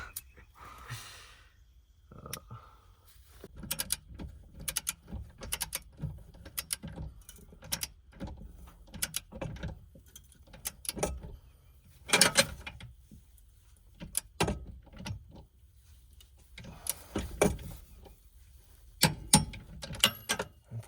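A Harbor Freight wrench ratchets as it tightens the jacks on a Grand Design Solitude 2930RL RV, sounding as sharp, irregular clicks and clanks in short bursts with pauses and heavy breathing between them.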